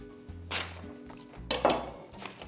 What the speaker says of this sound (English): I'm going to first sharpen my knife